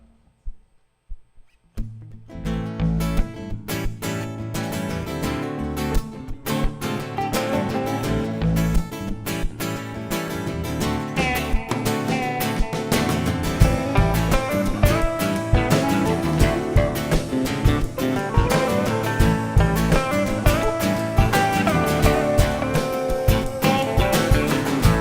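A funky, bluesy song is performed live by its songwriter, a full band-style mix playing steadily and loudly throughout, with no talking.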